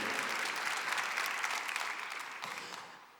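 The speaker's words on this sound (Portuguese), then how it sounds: "Aplauda com coragem, aplauda com fé a palavra do Senhor." A church congregation applauds after a scripture reading, a dense, steady clapping that tapers off toward the end.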